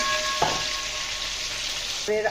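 Potatoes and pointed gourd fry in a pan with a steady, close hiss of oil, broken by a couple of brief clinks or voice-like sounds near the start and end.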